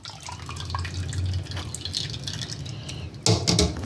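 Homemade chicken and beef bone broth dripping and trickling through a strainer into a pot, a steady close patter of liquid with a louder splash of pouring near the end.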